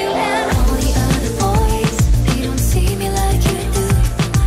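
Pop song excerpt playing loud and steady with a punchy beat, bass and layered vocals throughout.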